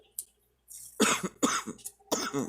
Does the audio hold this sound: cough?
yes